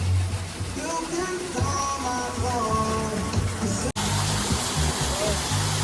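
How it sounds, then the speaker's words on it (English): Waterfall and river at a sulfur spa in Dominica, a steady broadband rush of falling and flowing water that continues throughout, with people talking over it in the first part. "And another waterfall coming off of it."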